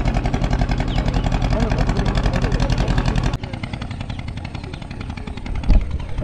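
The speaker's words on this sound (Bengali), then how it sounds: "তো এই একটা নৌকা এলো" A loud, close boat engine drones steadily at a ferry ghat on the way to Mousuni Island, with a throbbing mid-low hum that drops in level partway through and a brief thump near the end.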